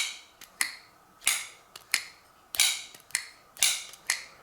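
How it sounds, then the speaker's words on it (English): A CJRB Pyrite folding knife with a bearing pivot flicked open and shut, crisp snapping clicks recurring about every half second to second, each with a short ringing tail, close and alone in a quiet room. "there is a bearing system in here, but can you hear how that sounds?"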